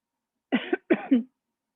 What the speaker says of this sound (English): Something fell into my throat and now I'm coughing